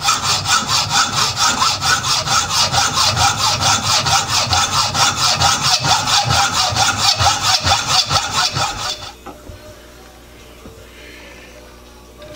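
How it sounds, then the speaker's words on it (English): A hacksaw cuts through scrap steel held in a lathe, giving steady rhythmic back-and-forth rasping strokes, loud and close, for about nine seconds before stopping abruptly into quiet room noise. "I'm just going to hacksaw this off and face it"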